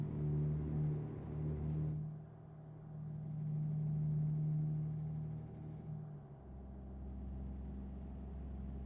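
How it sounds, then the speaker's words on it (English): A Western Star 49X truck in a trucking video game drones with a low, throaty exhaust note that shifts pitch as it pulls, with a sharp hiss near the start and another later, no talking. "Interesting exhaust note that it just hit."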